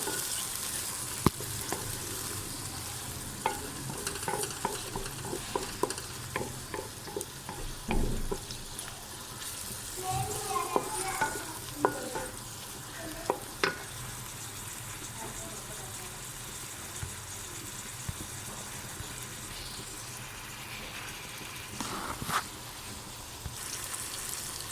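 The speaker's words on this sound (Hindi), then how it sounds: "ये देखो अच्छी तरह इसको भून लेंगे।" Okra masala is stir-fried in a pan, with an ongoing sizzle, scraping stirs and clanks of the utensil on the pan over about twenty-five seconds, and a voice speaks now and then.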